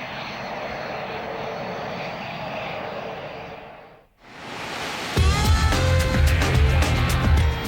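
A Dassault Mirage fighter jet engine roars with a broad, hissing blast that fades briefly before a louder, harsher burst of engine noise returns, steady and close.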